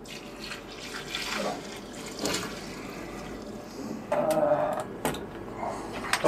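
Water gushes from a tap into a bowl holding flour, Guérande salt and yeast for ciabatta dough, a close splashing pour that comes in bursts with clatters and handling noises between them.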